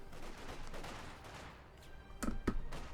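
Small-arms gunfire crackles in a Company of Heroes 2 skirmish, with a couple of sharp close shots near the end standing out over a dense, quieter battlefield background.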